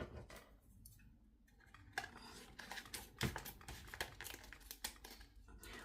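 Scissors snip through a UV DTF sticker sheet while a tumbler wrap is being trimmed, giving faint, irregular crisp cuts and rustles close by with no talking.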